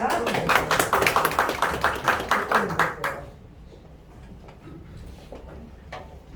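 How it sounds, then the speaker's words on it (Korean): Audience applause at a business presentation welcomes a franchise head to the stage: about three seconds of close, rhythmic clapping with distinct individual claps, then it stops and low room murmur remains. "큰 박수 보내드리겠습니다"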